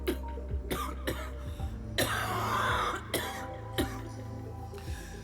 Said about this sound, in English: She breaks into another cough and collapses to one knee.